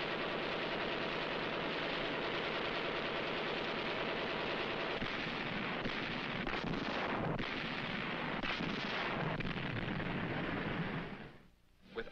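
Naval guns, bombs and rockets pound Okinawa's island defenses in a dense, continuous barrage of booming blasts from old wartime film, fading out at the close.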